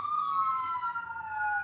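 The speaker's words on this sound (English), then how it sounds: "Hear the sirens? It's not a joke." A wailing siren sweeps slowly downward in pitch, steady and moderately distant.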